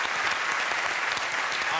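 A studio audience at a television chat show keeps up a sustained round of applause, full and even from start to finish, with faint talk mixed underneath.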